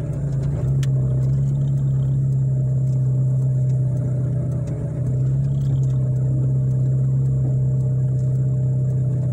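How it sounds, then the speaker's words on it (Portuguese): A car passes along a town-centre street, its steady engine hum and tyre noise holding at a constant level throughout with no voices. "esperar o carro passar para entrar na rua com mais segurança"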